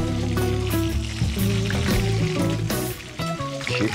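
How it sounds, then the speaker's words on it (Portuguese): Breaded chicken balls frying in hot oil, with a steady, close sizzle running throughout under a tonal background layer that sounds like music. "vou fritar ela também"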